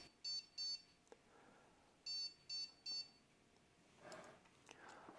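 A multimeter sounds short, faint continuity beeps while an electric range burner switch is tested, coming in two pairs then a triple, followed by soft rustling.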